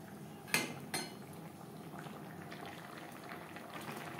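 Fish and ridge gourd curry simmers in a pan with a quiet, steady bubbling, broken early by two sharp clinks of a utensil against the pan.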